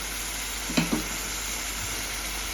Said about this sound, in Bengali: কচুরলতিটা প্রায় সিদ্ধ হয়ে আসছে, এই জন্য আমি এটাকে ভালোভাবে নেড়ে চেড়ে দিচ্ছি।